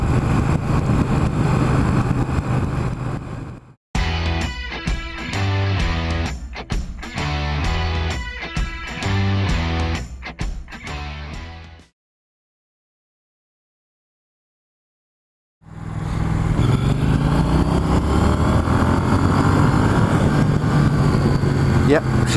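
2016 Triumph Street Twin motorcycle engine running close and loud, a steady rumble that breaks off twice, with a stretch of other sound and a silent gap before the engine noise returns.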